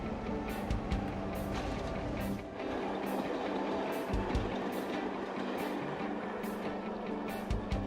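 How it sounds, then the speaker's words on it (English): Crash-test train rake pushed by a main vehicle along rails, accelerating to speed before release; a steady, continuous rolling rumble with faint periodic clicks of wheels over rail joints, no voices. "The train then sets off and picks up the required speed"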